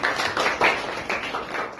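Brief classroom applause for a student in a Marathi lesson, a short burst of hand clapping with a few uneven rises and falls, moderately close.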